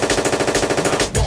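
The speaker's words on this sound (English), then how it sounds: "Machine gun." Rapid automatic machine gun fire plays as a loud sound effect, a continuous burst of evenly spaced shots that cuts off abruptly at the end.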